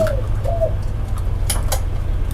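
Soft, low coos from a dove or pigeon come in a couple of short calls at mid distance. They sit over a steady low rumble of background noise, and no one is talking.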